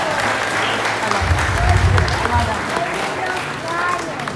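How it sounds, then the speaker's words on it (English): An audience at the Dollywood Wings of America bird show claps steadily for a falcon billed as the world's fastest animal, loud crowd applause lasting several seconds with a low rumble and voices mixed in. "Alright, everybody give a big round of applause for the world's fastest"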